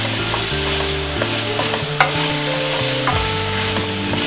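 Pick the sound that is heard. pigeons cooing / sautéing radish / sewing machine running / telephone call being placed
sautéing radish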